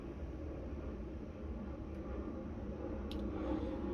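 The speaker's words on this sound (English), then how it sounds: "excuse the airplanes. I got the windows open, so y'all gonna hear a lot of stuff" An airplane passing overhead comes in through open windows as a faint, steady, broad rumble that holds for several seconds with no voices.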